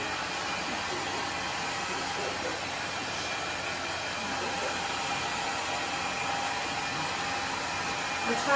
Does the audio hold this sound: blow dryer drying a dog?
yes